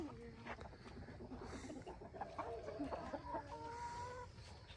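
A chicken clucks repeatedly while being held and handled, a string of low, throaty clucks and a few higher squawks close by, with faint background noise.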